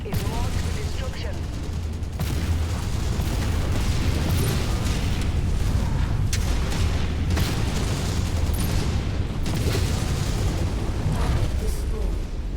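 A Vindicator battle mech blows up in a MechWarrior video game amid dense combat, with loud, continuous booming blasts and rapid weapon fire throughout.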